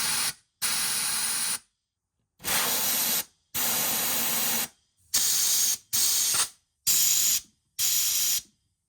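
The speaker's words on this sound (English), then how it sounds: "I definitely do want to blow out all of the dust and all the metal shavings that they're definitely parked in those fuel lines up there" Compressed air blasts through the fuel lines of a 1974 Corvette being converted to fuel injection, clearing dust and metal shavings: eight loud hissing bursts of about half a second to a second each, separated by short silent gaps, with no talking.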